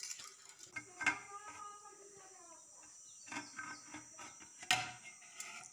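Metal pot set down inside a pressure cooker holding water, several sharp clinks and scrapes of metal on metal at close range, scattered over a few seconds alongside a steady background hum.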